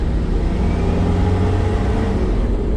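Toyota 1KZ-TE turbo diesel truck engine pushed for a quick boost burst up to 18 psi, a loud, close, steady low rumble with a dense roar throughout.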